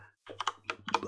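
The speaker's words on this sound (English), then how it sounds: "Just got a new keyboard, by the way. So for one, it should be less clicky." A quick, light burst of keystrokes on a new, less clicky computer keyboard, a handful of soft taps over a low steady hum.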